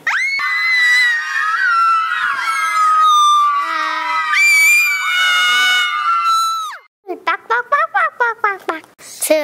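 Children shriek and scream together in a loud, sustained chorus for about seven seconds, followed by a burst of short, choppy shouts.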